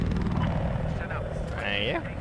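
A helicopter in the video game Battlefield 4 makes a steady rotor and engine drone, with game effects and people talking over it.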